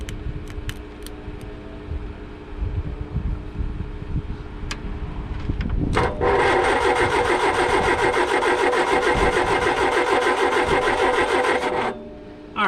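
An old Triumph Spitfire engine, running rich, catches after some faint clicks and runs loud and steady for about six seconds before cutting out abruptly.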